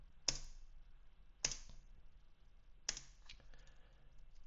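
Three sharp, separate keyboard key presses on a computer keyboard, evenly spaced about a second and a half apart, close and fairly quiet with a faint room hum between them.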